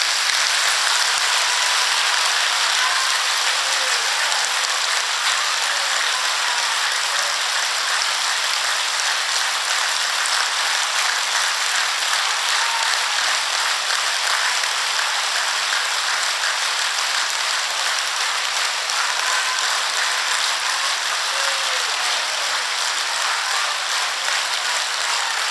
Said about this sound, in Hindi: जो जो प्यार से, हृदय से आज इसने मुझे अपना सेवक स्वीकार किया है, वह दोनों हाथ ऊपर कर तालियां बजाएं